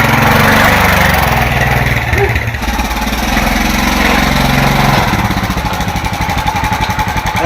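A motorcycle engine running loud and close, a rough continuous chugging drone with shifts in pitch as it revs, with no clear talking over it.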